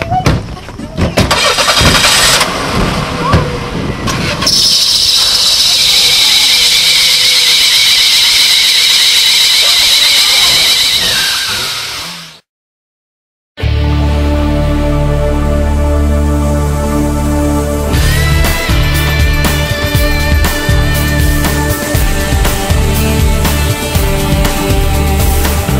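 Tires squeal long and loud as a car engine starts and revs at a street race, with the sound cutting out briefly before the engine roars back with more screeching and squealing.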